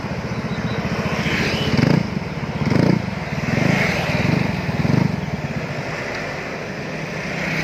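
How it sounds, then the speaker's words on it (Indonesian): Yamaha NMAX scooter engine on a test ride, its drone rising and falling in a few surges of throttle, close and fairly loud throughout. "ini motornya udah putar balik nih"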